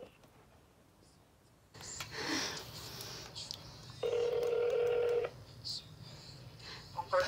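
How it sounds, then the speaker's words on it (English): A phone call's ringback tone sounds once as a steady electronic tone lasting just over a second, preceded by faint handling noise and soft background murmur. "It's ringing."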